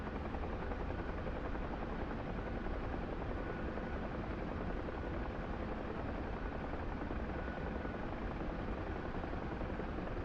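A helicopter in a Syria campaign video game, flying as low as a crop duster: a dense, constant rotor and engine drone, loud and unbroken throughout, with no talking.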